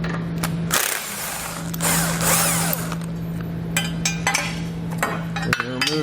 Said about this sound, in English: we want to grab a 15mm socket and pull all 3 of those out